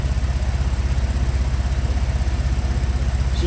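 A warmed-up vehicle engine idling in park, with a steady, even low throb and regular pulsing firing rhythm, close and continuous with no talk.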